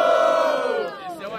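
A rap battle audience lets out a loud sustained roar for Alê, many voices shouting together in one long cheer that tapers off after about a second.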